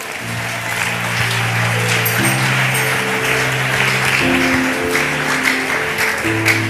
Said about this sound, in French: Acclame Jésus de Nazareth